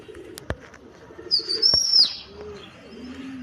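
Topi bateray pigeons give a soft coo alongside a thin high chirping call, with a couple of sharp taps or wing flaps in a quiet loft.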